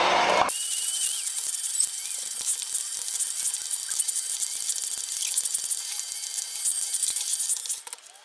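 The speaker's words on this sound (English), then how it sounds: "So now we're going to blend it together." An electric mixer blends Bob's Red Mill vegan, wheat-free and gluten-free chocolate chip cookie mix in a bowl, giving a loud, steady, close motor whine that runs almost unbroken and fades away at the end.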